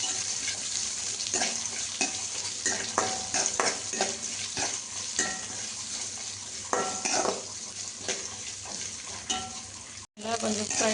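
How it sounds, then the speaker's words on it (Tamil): Dried chillies and onions fry toward golden brown in a pan with a steady loud sizzle, while a utensil repeatedly stirs and scrapes against the metal close by. "காஞ்ச மிளகா காரத்துக்கு ஏற்ற போட்டு நல்லா கோல்டன் ப்ரௌன் கலரில் வரணும்."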